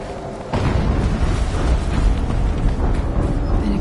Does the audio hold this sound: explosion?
yes